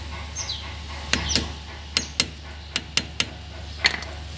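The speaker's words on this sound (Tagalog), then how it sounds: "Tapos kunting pukpukin dito sa gilid-gilid niya para lumapat po ng husto." Light, sharp taps strike around the edges of a part to seat it during repair work on a Nissan Civilian, several knocks spaced irregularly over a low steady hum, with faint chirps in the background.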